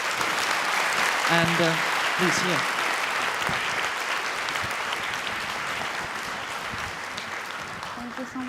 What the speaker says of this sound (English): give a warm applause for our second finalist